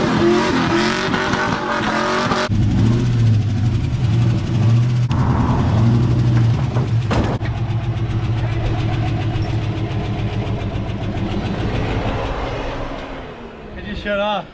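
A large truck engine, a junkyard 6.0 with suspected worn rod bearings, rumbles and revs close by, rough and uneven, before cutting out near the end, leaving a brief quiet tail.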